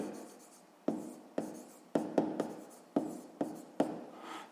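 Someone writing a fraction by hand during a sixth-grade math exercise: a series of short, distinct pen or chalk strokes in an uneven rhythm, close and quiet, with no talk.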